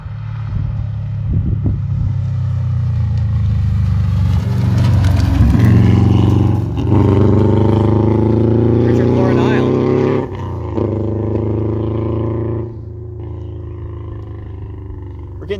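A Honda rally car engine revs hard on a rally stage, loud and close with rising and falling pitch as it accelerates, then cuts off abruptly near the end while a commentator talks over it.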